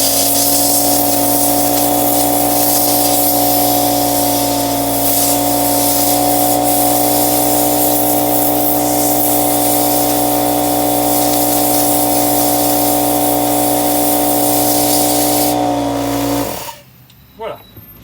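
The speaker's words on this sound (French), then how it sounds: "l'idéal, mais ça fait un peu de bruit, c'est d'utiliser un souffleur" An electric air blower drying a bicycle cassette gives a loud, steady whining roar that runs continuously and then cuts off abruptly near the end, leaving a few faint knocks.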